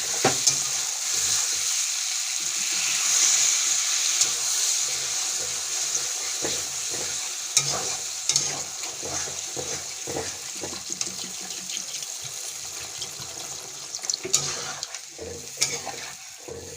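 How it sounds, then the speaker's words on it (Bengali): Bengali prawn curry sizzling steadily in a pan as water goes in, a continuous close hiss and bubbling with faint stirring scrapes throughout and no talk. "জল দিয়ে দেবো।"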